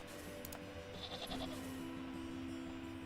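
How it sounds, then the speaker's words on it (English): A goat bleats once, a wavering cry heard at low level over a steady background hum, with no talking. "Hello, goat. Bah."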